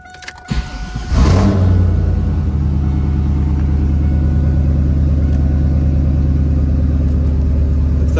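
A 1998-2002 Chevrolet Camaro or Pontiac Firebird engine cranks and catches after a brief clatter, then settles into a loud, steady low idle that continues unchanged.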